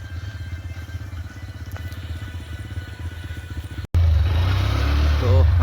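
A motorcycle with an engine problem runs on a rainy day, its low engine pulsing unevenly with a clattering idle, then an abrupt cut followed by a louder, rougher engine roar with a voice over it.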